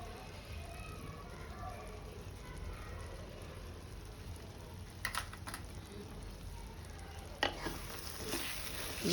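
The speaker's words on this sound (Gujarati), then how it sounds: "સરસ રીતે મિક્સ કરી દઈશું." Paneer gotalo with cheese being stirred in a pan, a steady sizzling fry throughout with a few scraping spoon strokes near the end.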